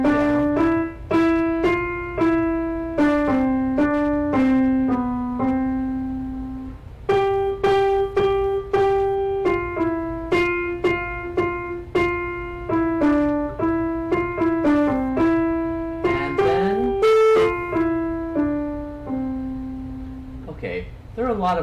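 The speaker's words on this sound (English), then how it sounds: "You probably know this popular or this nationalistic little tune," Melody of My Country 'Tis of Thee played note by note on a clear-toned instrument, likely a piano, in a steady, moderate rhythm. Each note is distinct and sounds alone, with no voices.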